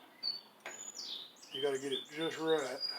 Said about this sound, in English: I hear the little bird chirping out there.